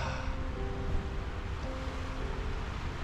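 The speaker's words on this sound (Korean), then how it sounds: "아 근데 이 물소리가" Sea waves wash steadily against a beach on a stormy, typhoon-approaching day, a continuous broadband roar of surf and water with light wind, fairly close and even in level, with no talking.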